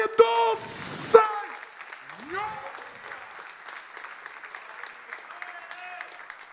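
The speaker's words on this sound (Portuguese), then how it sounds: "Aplauda o nome do Senhor." Applause from a church congregation during a Portuguese-language worship service starts as brief clapping under an amplified preacher's voice, then settles into a sustained wash of clapping and crowd sound while the preacher keeps talking.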